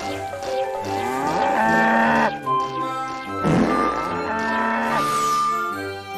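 A cow moos several times, long drawn-out lowing calls with a deep grunting moo in the middle, close and loud in a cartoon farm scene, with no talk.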